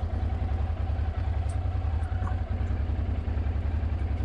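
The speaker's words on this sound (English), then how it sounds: "Idling without choke." A Honda Transalp motorcycle engine idles without choke once warmed up, a close, steady low pulsing thrum with even rhythm and faint clatter over it, no talking.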